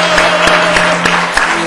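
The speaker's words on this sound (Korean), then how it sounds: "우리 박수하겠습니다" A church congregation claps together in a brief, loud burst, with a few distinct claps standing out above a steady low hum in the room.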